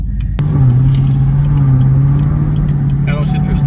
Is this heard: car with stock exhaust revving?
yes